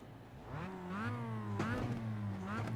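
Mazda Miata engine in a racing video game, revving up and shifting through gears with rising and falling tones, steady and close, with no talking.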